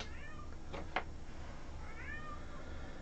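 A male house cat meows twice, a short call near the start and another a couple of seconds later, moderately faint against a quiet indoor background with no talking.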